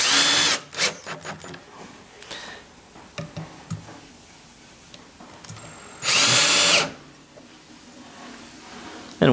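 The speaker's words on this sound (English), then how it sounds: "now we'll just go ahead and put our screws in" Cordless power drill driving wood screws into a cabinet: short whirring bursts, then a longer loud run near the end, close by, with clicks and handling noises between the runs.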